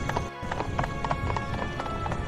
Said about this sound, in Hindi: घोड़े पर सवार होकर जंगल की ओर निकल पड़े हैं